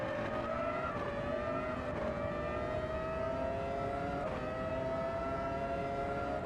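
A Formula V10 race car in the Automobilista 2 video game at the Silverstone track, a high, screaming engine whine that rises steadily as the car approaches, with brief pitch dips at gear changes, loud and continuous.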